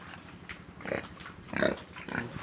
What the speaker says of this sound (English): This is some other pig